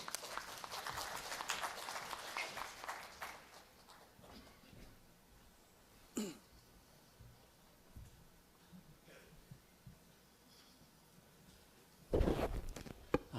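Faint, scattered audience applause welcoming a speaker at a dental lecture, quickly dying away into a quiet room with a few soft thumps.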